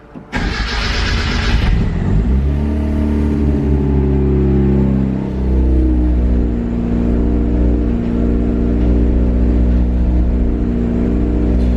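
A turbocharged Mazda Miata up on jack stands cranks, fires with a sharp burst, then settles into a loud, close, steady idle with small rises in revs, with no talk over it.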